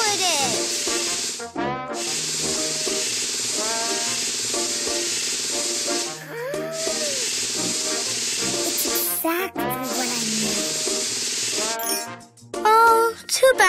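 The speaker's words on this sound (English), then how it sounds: "Now let's take the spray gun and paint the stains." Steady loud hissing spray-gun bursts painting a car in a Masha and the Bear mobile game repeat with short pauses between them, accompanied by chirpy game sound effects and occasional speech.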